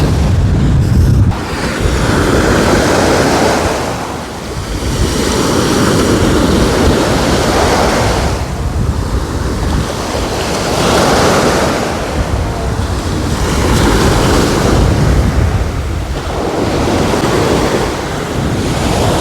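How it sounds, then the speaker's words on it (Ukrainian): Loud surf crashes in repeated surges, each wave swelling and receding under a constant roar of strong wind buffeting the microphone. "Бо сьогодні людей мало біля моря, вітер сильний."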